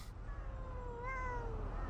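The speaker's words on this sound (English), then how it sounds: "there's cats everywhere" Several cats meow with drawn-out, overlapping cries in the video game Thirty Flights of Loving, clear and close over a steady low background hum, with no talking.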